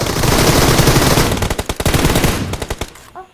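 Machine gun fire in a first-person shooter video game: a loud, sustained automatic burst, then rapid separate rounds that thin out into a few final shots, close and alone.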